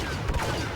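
Rapid blaster fire from a T-21b targeting rifle in Star Wars Battlefront, a dense, continuous burst of overlapping shots with a few heavier low thumps, loud and close throughout the short stretch.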